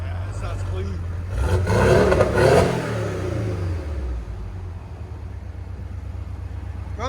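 A 2017 Porsche 718 2.0L turbo with a cat-back exhaust system revs hard and holds briefly, then drops back down to a deep, steady idle burble that continues close by for several seconds.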